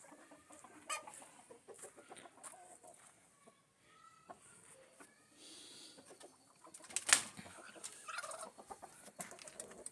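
Hens clucking in a cage alongside an Aseel Mushka rooster, with intermittent clucks, squawks and some wing flapping nearby, while a person talks in the background.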